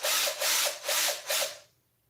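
A power drill runs in four short bursts, each a loud, gritty whir lasting under half a second with brief gaps between, then cuts off into near silence.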